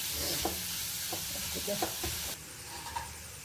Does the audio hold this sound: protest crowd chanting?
no